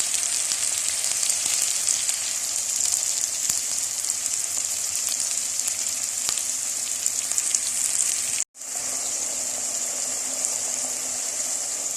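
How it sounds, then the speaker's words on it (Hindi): Ginger and tomato masala frying in a pan, a loud, continuous close sizzle with a brief dropout near the end, no voices. "मसाला जो है ना वो भून रहा है"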